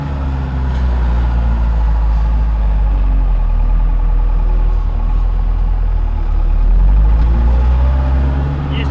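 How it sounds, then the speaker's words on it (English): A small, older skid loader engine rumbles loudly and steadily nearby while loading hay bales, a deep continuous drone with a slight swell in revs near the end and no talking. "A little slower loading with my little old skid loader here."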